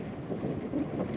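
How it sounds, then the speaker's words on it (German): Strong wind gusts across the Velmerstot hilltop in the Egge hills, a soft, low rushing buffet against the microphone that swells and fades briefly. "Ja, jetzt wird es gerade auch wieder sehr windig"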